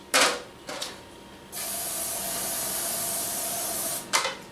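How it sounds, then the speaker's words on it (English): Cooking spray hisses into a loaf pan for pumpkin bread in one long, steady burst, with short spritzes before and after. "you need to spray the pan thoroughly"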